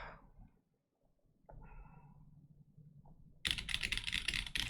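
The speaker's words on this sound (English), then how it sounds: "It sounds like a keyboard." Typing on a glossy black computer keyboard, a steady run of fast clicky keystrokes that starts suddenly and grows loud and dense toward the end, after a quieter stretch of faint handling noise.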